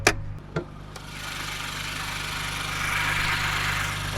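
A truck engine idles steadily with the hood raised, a low continuous rumble following a couple of sharp clicks at the start.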